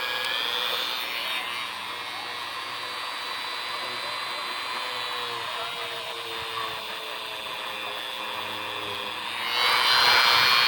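A Dremel buffing tool spins with polishing compound on a cloudy, cracked Ring floodlight camera lens, giving a steady high whine that holds for about ten seconds and then rises in pitch and loudness near the end.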